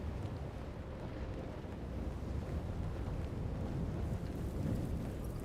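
Stormy wind at sea in the video game Hitman 3 blows in a steady, loud roar with surging gusts and a low rumble of waves, continuous and close, with no voices.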